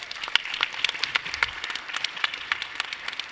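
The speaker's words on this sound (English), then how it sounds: "Big round of applause for Elo and Trexx." Audience clapping after a fintech pitch competition round, a modest crowd producing distinct, irregular hand claps over a soft bed of applause, fairly close and lively for a few seconds.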